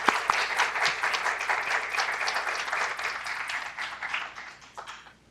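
An audience applauds to welcome a speaker to the stage, steady clapping from many hands that stays moderately loud and then tapers away toward the end.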